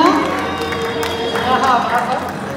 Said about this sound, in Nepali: हामी तालीलाई निरन्तरता गरिरहौँ निरन्तर ताली उठाइरहौँ